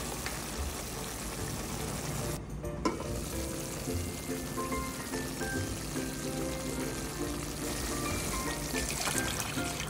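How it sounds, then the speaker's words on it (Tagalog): Tuna adobo cooked in coconut milk sizzles steadily in a frying pan while it is stirred, with occasional light scrapes and bubbling, close and continuous. "Kailangan ko po itong galaw-galawin para malaman na hindi po siya didikit sa kawali."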